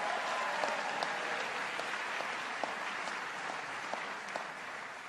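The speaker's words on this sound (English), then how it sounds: "Let's give him a big round of applause." An audience applauds CUNY chairman Bill Thompson at a free-tuition announcement for state colleges, a steady dense wash of clapping with a few sharper claps standing out, sustained at even strength throughout with no talking.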